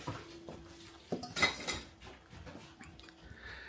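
Metal bean masher clinking and scraping against the side of a metal pot while beans are mashed for refried beans, a few sharp close clinks with one louder knock amid soft scraping.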